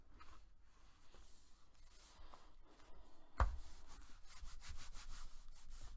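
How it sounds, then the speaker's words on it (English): A glued paper strip on a handmade card album is burnished firmly, close-up rhythmic rubbing strokes that grow louder and quicker after a sharp knock midway, with no talking. "And go ahead and burnish that on so it sticks real well."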